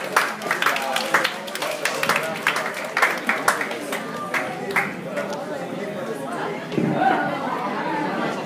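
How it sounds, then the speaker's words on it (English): An audience at a startup meetup gives a round of applause, with scattered claps mixed into loud crowd chatter and voices throughout. "Everybody, please give a round of applause now."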